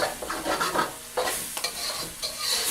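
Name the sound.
garlic and ginger cooking in sauce in pan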